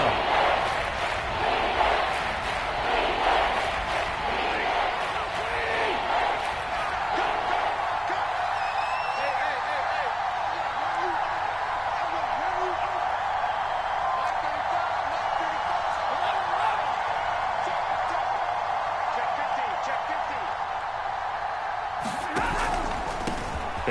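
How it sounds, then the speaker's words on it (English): A stadium crowd in the Madden football video game roars steadily as a big third down approaches, a dense, continuous wash of cheering that holds for over twenty seconds with a voice talking over it. "the crowd getting into it as we come up on a big 3rd down"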